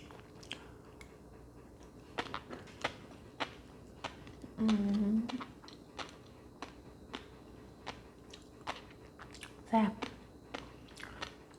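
Chewing raw salmon with shrimp roe, eaten fresh with wasabi: wet, crunchy bites and smacking sounds at close range in scattered bursts, with a couple of louder squishy moments.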